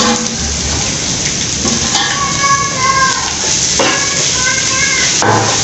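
Onions sizzling in hot oil in a pan with ginger garlic paste stirred in, a steady crackling fry broken by occasional clinks of a spoon against the pan.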